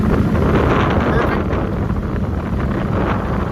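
A modified golf cart cruising down a road, with heavy wind buffeting the microphone and a continuous low rumble of motion throughout.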